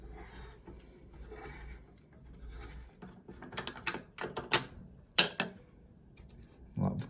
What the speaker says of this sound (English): you're basically just pressing down and turning it clockwise just to shine that tap body seat up where the washer is going to compress against